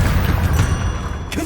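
A Bombarda spell explosion in Hogwarts Legacy gives a dense, sustained low rumbling boom with a brief sharper burst near the end.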